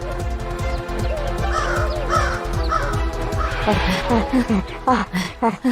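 A cartoon crow caws loudly and repeatedly in quick harsh bursts in a Bengali comedy cartoon, with animated character voices mixed in around the calls.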